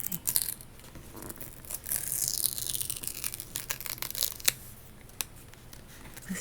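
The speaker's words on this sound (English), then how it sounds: "This one doesn't tear quite as easily." Paper torn slowly by hand, close and intimate, a soft ripping run of crackles with a few sharper snaps near the end and no voice.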